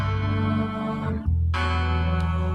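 A Chapman stick fitted with retrofitted synthesizer electronics gives a sustained, bell-like tone with a steady low drone, which drops out briefly before swelling back at full strength. No one speaks.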